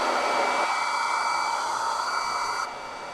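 A hair dryer blows a steady, loud, close whoosh while drying glue on Valentine's Day decorations, then drops to a lower setting near the end.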